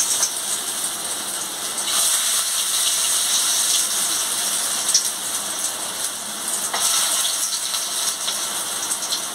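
Food frying in oil heated for a long time in a kadai, a continuous bright sizzle and crackle with scattered louder pops, steady and fairly close throughout.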